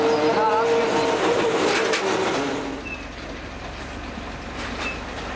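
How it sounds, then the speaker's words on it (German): Deutsche Bahn track renewal train rolls on rails with a loud rumbling clatter and some metallic squeal, fading after a few seconds to a quieter distant rush. "der Zug rollt wieder."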